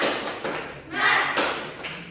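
Elementary classroom students performing a rhythmic clapping chant, with sharp bursts of hand claps in a patterned beat mixed with voices chanting together.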